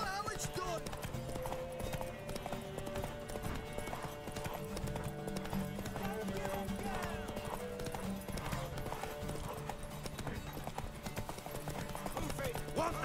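Horse hooves clip-clop in The Witcher 3 Next Gen, with a horse whinnying amid game music. The rhythmic hoofbeats run throughout, mixed under character voices.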